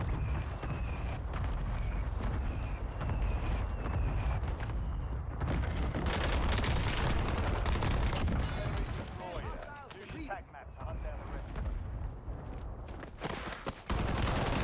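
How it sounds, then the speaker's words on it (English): Heavy airstrike explosions and gunfire rumble continuously in Call of Duty Warzone on Rebirth Island, loud booms and crackling shots stacking densely over about fifteen seconds beneath someone talking. "maybe somebody will jump down here without realizing there's an airstrike"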